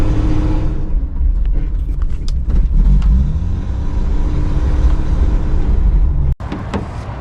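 A pickup truck engine rumbles steadily at close range while driving, with a loud, continuous low drone and slight shifts in load, and no talking.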